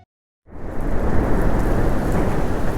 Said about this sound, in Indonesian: Hingga suatu hari, badai besar melanda desa. Hujan deras disertai angin kencang menghantam rumah-rumah